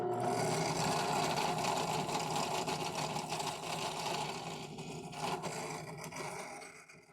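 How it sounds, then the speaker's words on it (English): Light chamfering of a detent hole in a titanium framelock folder, a steady close whirring grind with a fine scraping edge that holds for several seconds, then eases slightly toward the end. "So now I'm just going to lightly chamfer that detent hole."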